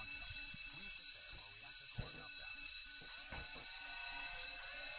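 An electronic alarm sounds a steady, piercing high-pitched tone, somewhat faint, while people talk and move beneath it.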